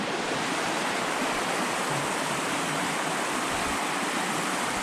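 Water from a small cascade on Lepper Brook rushes in a steady, dense hiss, close and unbroken throughout with no other sounds.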